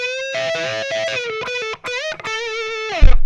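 A loud, distorted electric guitar plays a flowing phrase from a song's solo with bends and vibrato, ending with a low thump.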